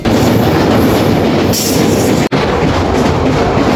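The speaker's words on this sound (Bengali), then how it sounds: "নতুন ব্রিজ দিয়ে ট্রেন যেতেছে" A train crosses the new Bhairab bridge over the Meghna river in a loud, steady rumble of wheels and carriages, broken by one brief dropout partway through.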